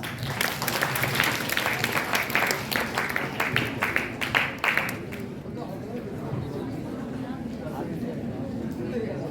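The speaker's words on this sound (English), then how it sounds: "Clap for her" An audience at a college valedictory function applauds with dense, steady clapping for several seconds, then the clapping thins out and gives way to crowd chatter and voices.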